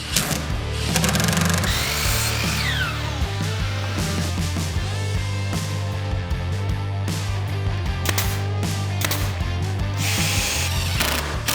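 A power drill drives screws into the wooden legs of an elevated garden planter box, whirring and ratcheting loudly and close in repeated bursts with short pauses, no talking.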